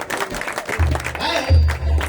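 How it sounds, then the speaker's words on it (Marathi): Scattered applause from an audience at a folk entertainment performance, patchy clapping mixed with loud low thumping beats, likely from a drum, and a voice speaking over part of it. "यांच्यासाठी आपल्या टाळ्या वाजवून"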